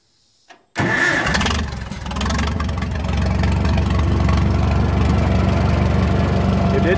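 Farmall 400 tractor with its old gasoline engine cranking and catching after a short silent gap, then settling into a loud, steady low rumbling idle right up close.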